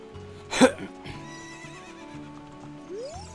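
A horse whinnies loudly once in The Legend of Zelda: Ocarina of Time, a short shrill neigh over faint background music and soft hoof clip-clops.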